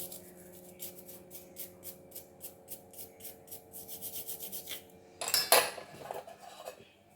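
A conch shell bangle (shakha) is scrubbed clean by hand, a quiet steady rhythm of short rasping strokes, followed near the end by a brief louder scrape and clatter.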